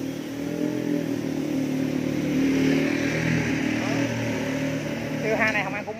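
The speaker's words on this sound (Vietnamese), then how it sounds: "Rồi, nổ máy." A 2005 Honda Future motorcycle engine runs at a steady idle with a low putter, close by, while someone talks over it.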